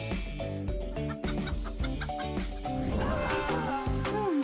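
Hens clucking in a chicken coop, several birds overlapping in a busy, close chorus of short rhythmic clucks with a rising squawk near the end.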